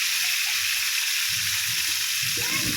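Tuna steak sizzles and fries in a hot pan, a steady close hiss with soft low popping underneath.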